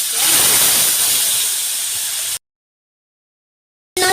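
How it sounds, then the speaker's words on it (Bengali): Ginger paste hitting hot oil in a pan while making dum aloo with milk, giving a loud, close, bright hiss and sizzle that eases off, then cuts to silence before sizzling resumes briefly. "আদাটা যে আমি ফেলে দিয়েছি সেটা চারিদিকে ফাটতে থাকবে"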